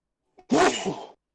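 A single sharp sneeze, close and fairly loud, after a brief intake of breath.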